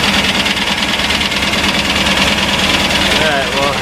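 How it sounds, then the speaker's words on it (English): A VW 2110cc engine fitted with dual Dellorto 44 carburetors idles steadily and loudly up close, a dense continuous running drone with a slight knocking texture throughout, while people talk over it. "Alright, well, as you can see, that's the engine."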